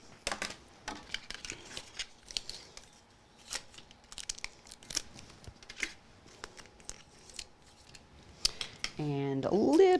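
Scissors snip through card during a card-making craft, a series of sharp, quick cuts scattered across the clip, with paper rustling and handling noises between them and a brief louder scrape at the end.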